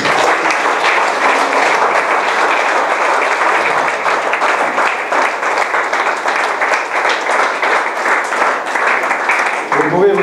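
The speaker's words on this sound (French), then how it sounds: "Applaudis le Seigneur." A church congregation claps at length, a loud, dense wall of applause at a rapid rhythmic pace from many hands, with voices mixed in.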